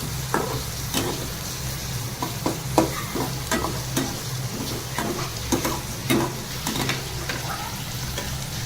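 Dry fish (sukat) for a spicy village-style curry frying in a small amount of oil, with a steady close sizzle under repeated sharp scrapes and clinks of stirring at a regular rhythm, no talking.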